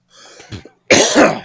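A man gives a short throat-clearing hack followed by one loud, harsh cough, close to the microphone with no talk.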